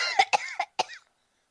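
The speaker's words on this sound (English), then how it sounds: "Go on, cough it up" A short burst of several rough, raspy coughs in quick succession, close and fairly quiet, then silence.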